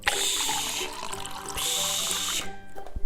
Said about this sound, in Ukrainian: У мене є дві чашечки, наливаємо водичку і заварюємо чайок.